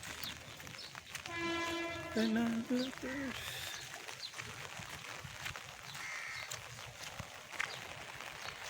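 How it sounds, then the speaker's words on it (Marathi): A train passes near Bhayandar station beside Bhayandar creek, with a loud horn blast rising over a steady rumble of rolling wagons that fills the whole stretch. "ट्रेन चालले बघा बघून"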